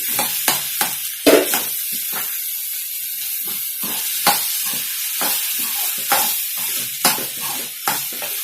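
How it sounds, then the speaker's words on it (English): Raw plantain stirred in a frying pan for a South Indian dish, with a spoon scraping and tapping the pan in irregular bursts over a soft, steady sizzle, close and fairly loud, with no talk. "So now I'm going to add the raw plantain and mix it well."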